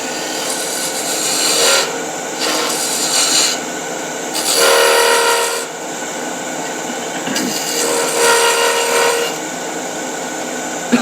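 A round nose scraper cuts into a wooden acorn box spinning on a lathe, giving loud, steady rasping scrapes in several long passes with short pauses between them. No one speaks.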